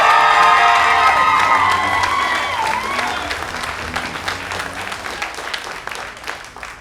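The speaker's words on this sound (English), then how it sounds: "How about a big round of applause for Mike Kress?" Loud applause and cheering from a comedy club audience welcoming comedian Mike Kress, with whoops and shouts over the clapping that gradually thin toward the end.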